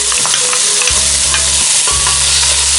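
Onions frying in rendering bacon fat in a Dutch oven, a loud, steady sizzle up close with occasional stirring scrapes and low rumbling thuds.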